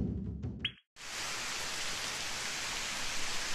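Steady broadband hiss of rain falling during a game event scene, arriving abruptly after a brief quiet gap and then continuing evenly and fairly loud until the end.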